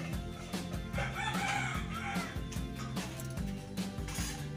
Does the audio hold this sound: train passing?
no